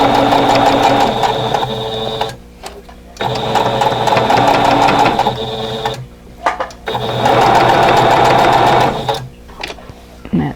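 A sewing machine stitches a quilt block seam in three long loud runs, each a steady whirring rattle broken by short pauses, heard up close.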